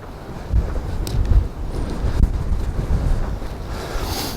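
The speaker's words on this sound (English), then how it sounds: "if you can hear any wind" Wind gusts at the seaside buffet the microphone, making a loud, rumbling roar in uneven surges, with faint waves beneath and no voices.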